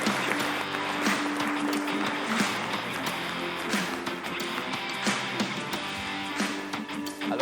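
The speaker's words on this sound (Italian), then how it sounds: "allora un applauso a Umberto" Studio audience applauding on an Italian Telepace television broadcast, a steady wash of clapping that holds evenly throughout, with a sustained musical tone beneath it.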